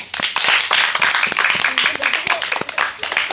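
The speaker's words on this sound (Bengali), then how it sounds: "সুন্দর সবার তালি।" A group of children claps together during a balloon-and-cloth party game, fast scattered hand claps close by with an adult voice talking over them.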